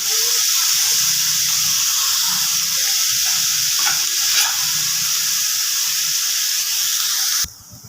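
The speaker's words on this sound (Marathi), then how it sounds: "कांदा आपल्याला चांगला भाजून घ्यायचा आहे" Onions roasting in a pan as a base for a dried-shrimp (sukat) chutney give a steady, loud broadband sizzle and hiss with occasional faint pops, with no talking; the sound drops off abruptly near the end.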